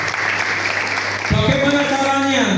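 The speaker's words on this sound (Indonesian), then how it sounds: "Kita berikan tepuk tangan buat Tuhan." Church congregation clapping during a Sunday worship service, a dense steady wash of applause that swells midway as music or a voice comes in underneath.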